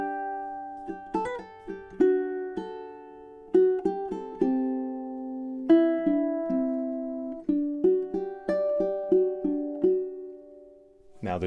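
Solo ukulele plays the outro of a piece, measures 44 to 47, with sparse plucked notes and ringing chords in a slow, gentle rhythm, close and quiet, ending on a brief strum.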